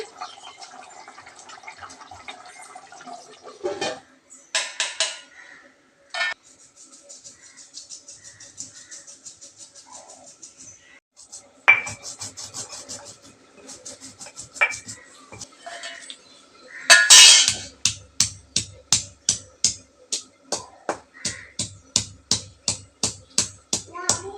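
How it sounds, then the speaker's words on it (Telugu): Garlic and cumin are pounded in a stone mortar. Scattered knocks and scrapes come first, then a long, evenly spaced run of sharp, loud thuds, close and alone. "ఎల్లుల్లిపాయ జీలకర్ర ఇప్పుడు రోట్లో నూరుతానండి"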